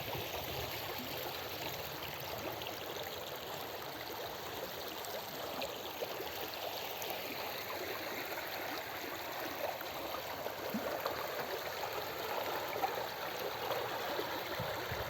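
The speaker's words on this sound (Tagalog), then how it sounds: "Ang linis ng kanilang ilog dito" A clear river flows steadily, a soft, continuous rush and trickle of water heard from nearby at low volume with no voices.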